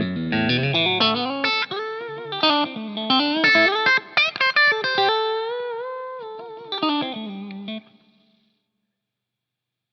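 An electric guitar plays chords and single notes through a warm, slightly overdriven BluGuitar Amp1 tube amp, ringing with sustain before fading into silence.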